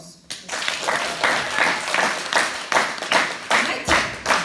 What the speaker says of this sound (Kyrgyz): Дайчы кол чаап коебуз.